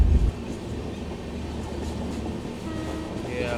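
The Gorakhpur–Prayagraj Vande Bharat train passes close by as a steady, loud rumbling roar of rolling wheels, with a low thump at the start and faint rail squeal near the end.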